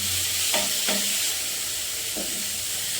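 Tomatoes tossed into a pan of frying chillies while cooking poha, a continuous close sizzle with a few short scraping stirs of a spoon against the pan, and no talking.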